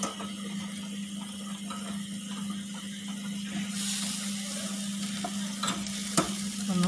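Grill chicken sizzles and crackles steadily in the pan as it is flipped, with a constant frying hiss and a few sharp scraping knocks near the end.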